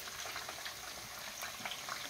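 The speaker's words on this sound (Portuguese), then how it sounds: "E aqui, ó, você vê que tá fervendo aí" Pirão broth, a fish stock thickened with flour, bubbling at a steady boil in a pot, with a faint, continuous simmer and occasional soft pops, no voices.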